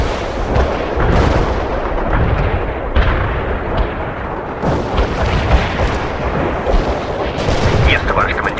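Artillery barrage in World in Conflict, loud and relentless: heavy booming shell impacts and gunfire merge into a thick, continuous roar with repeated sharp blasts, and voices are heard amid the bombardment.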